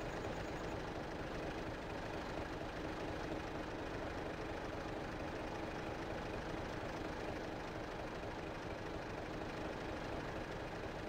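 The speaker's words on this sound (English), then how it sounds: "It's the John Deere 548H Cable Skidder" John Deere 548H cable skidder engine idling in Farming Simulator 17, a steady low diesel rumble that holds constant and unbroken for the whole stretch, with no talk.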